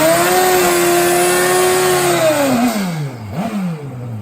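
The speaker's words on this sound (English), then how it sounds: "This is one of Steve's old bikes." A drag racing motorcycle engine, a former 1990 Top Fuel championship Harley, holds a loud steady high rev close by, then the pitch drops and briefly blips back up as it winds down.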